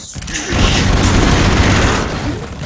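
A dynamite explosion in a video game booms loud and close, a sustained rumbling blast lasting a couple of seconds and then fading.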